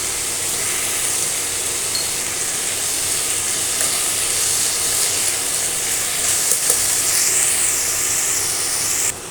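Young jackfruit seasoned with salt and turmeric fries in a pan, giving a loud, continuous hissing sizzle with faint stirring throughout.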